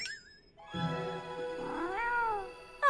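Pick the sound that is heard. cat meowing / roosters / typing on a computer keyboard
cat meowing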